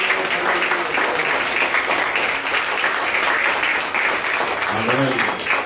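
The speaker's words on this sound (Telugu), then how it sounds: "Clap your hands." A church congregation claps hands together at a Sunday service, a dense, steady wash of applause that fills the whole stretch, with faint voices mixed in underneath.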